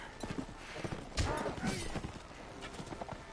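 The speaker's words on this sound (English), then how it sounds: "It's actually my favorite kind of horse in this game." Rhythmic clip-clop of an unarmored horse's hooves galloping steadily in the medieval game Mount & Blade: Warband, with battle clamor behind and faint neighing.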